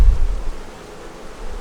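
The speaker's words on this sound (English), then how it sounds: "What that is the bees are coming home, because it's going to be getting cooler again tonight" Honeybees returning to their hive in cooling weather, a low steady buzzing hum close by with slight swells in loudness and no voices.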